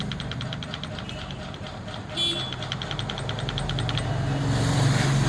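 A Royal Enfield Bullet motorcycle engine running steadily with an abnormal rhythmic knocking from inside, loud and close, the idle rising slightly toward the end.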